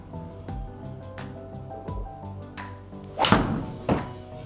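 A TaylorMade Qi35 golf driver strikes balls with muffled, dull thuds. Several separate impacts are spaced out, and a louder, fuller hit comes near the end.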